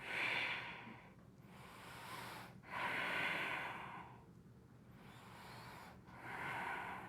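Slow, audible breathing while holding a glute bridge on a mat, three long airy breaths in a steady rhythm, close and soft with no talking.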